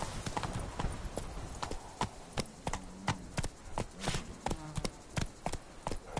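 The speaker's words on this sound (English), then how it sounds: "Run, Roach" A horse gallops in a PS4 video game, its hoofbeats clopping in a quick, uneven rhythm at moderate volume with no speech over them.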